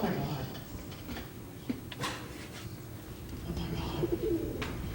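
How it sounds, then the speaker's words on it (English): A pigeon coos softly in the background on a film set while people talk nearby and small clatters and knocks sound through the scene. "the pigeon we cast is a relative of Chris's"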